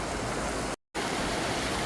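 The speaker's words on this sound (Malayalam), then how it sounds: "ഭംഗിയായിട്ട് വെള്ളം ചാടണമെന്ന്" Steady, loud broadband rush of river water pouring over a check dam on the Siruvani river near Sambarkode, continuous apart from one brief dropout to silence partway through.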